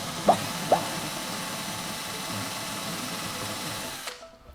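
A power drill bores into an aluminium wheel hex for a WLToys 144001 RC car, a steady high whine running for about four seconds with two sharp clicks near the start before it winds down and stops.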